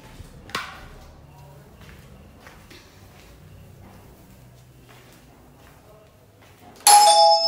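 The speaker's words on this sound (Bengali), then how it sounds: "এখন কে বেলটা বাজাবে সেটা একটু দেখে নিই" Quiet kitchen sounds with a sharp knock early on, then a loud electronic doorbell chime rings out near the end.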